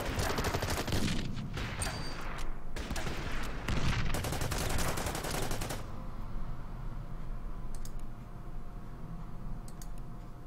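Rapid bursts of gunfire rattle against a pillbox in the wartime strategy game Order of Battle, set in the Pacific at Leyte, loud and dense for about six seconds before dropping to a quieter background with a few faint clicks.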